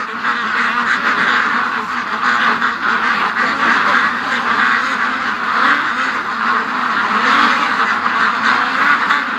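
A dense, loud chorus of many ducks quacking continuously up close as they are herded in, with overlapping calls and no pauses.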